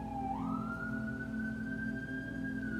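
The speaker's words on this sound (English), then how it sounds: "I hear these sirens out here" Emergency siren outside, a steady wailing tone that rises early then holds, heard at a moderate distance over a low background hum, with no talking.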